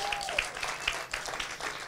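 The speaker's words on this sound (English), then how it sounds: "A round of applause for them." Conference audience at a youth event in Nairobi applauds with steady, many-handed clapping, moderately loud and continuous, with a few sharper claps and a brief tone near the start.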